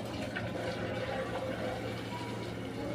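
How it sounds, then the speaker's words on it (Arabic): Boiling water is poured from above onto chicken livers in a kitchen, giving a steady, close, rushing pour with a faint hum behind it, and no talk. "وهنحط ميه بتغلي"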